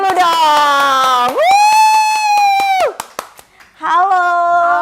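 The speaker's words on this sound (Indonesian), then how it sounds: "Tepuk tangan dulu dong." A studio audience on an Indonesian talk show claps and cheers as a guest is welcomed, with loud sustained whoops and cries over scattered hand claps in a short burst that dips briefly before rising again.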